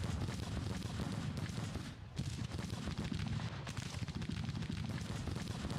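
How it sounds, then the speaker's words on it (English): Artillery guns fire in Grand Tactician: The Civil War, a dense, steady rumble of booms and crackling shots with no gaps, loud and continuous throughout. "These guns are now shooting."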